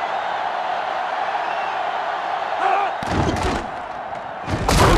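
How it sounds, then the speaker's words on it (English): Roaring stadium crowd at a Michigan rivalry college football game in NCAA Football 2005, a steady loud wash of fans with bursts of heavier thumping noise swelling near the end, commentary voices mixed in. "this crowd is going absolutely insane"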